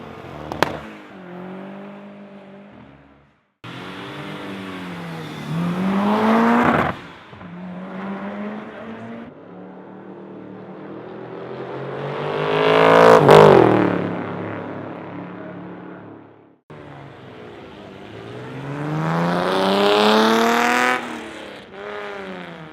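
Race cars on the Brighton seafront street circuit head out for first practice, several loud high-revving engines rising and falling in pitch as cars accelerate, shift and pass close by one after another, with a brief gap between passes.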